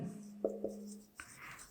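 Chalk or marker scratching on a board during a maths lesson, a few short distinct strokes and taps heard close and fairly quiet, with a steady low hum underneath.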